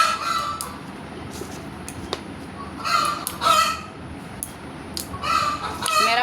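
A hen cackles repeatedly after laying an egg. The calls come in bursts of clucks over a steady background hiss.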